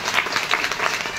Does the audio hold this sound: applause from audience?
yes